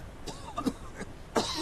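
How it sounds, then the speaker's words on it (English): A few quiet coughs sound close by in short bursts, with a pause before a final cluster. "Excuse me for coughing"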